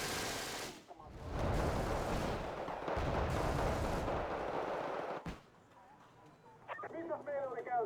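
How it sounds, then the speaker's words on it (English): Heavy rumbling blasts and artillery-like booms from bombing in a tank video game, loud and sustained for several seconds, followed by a sharp bang and quieter sounds while someone talks. "I'm gonna try bombing this."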